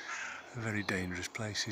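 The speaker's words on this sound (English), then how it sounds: "There's a bird there, crow," A crow caws near power pylons at a nature reserve, its calls partly buried under someone talking close by.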